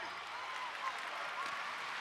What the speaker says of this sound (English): Crowd trying to make a little bit of noise, trying to be a little restless.